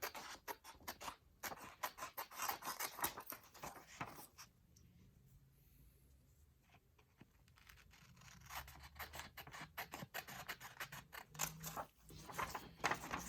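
Scissors cutting paper along drawn guide lines for a 3D letter T, heard as close, quiet scratchy snips and rubbing in irregular bursts, with a calmer stretch in the middle.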